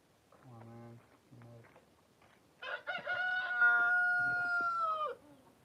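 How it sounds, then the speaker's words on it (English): A rooster crows loudly and alone in the afternoon outside a workshop, one long sustained crow that ends abruptly, preceded by a few short clucking calls. "the rooster screams also at night, in the afternoon, not only in the morning"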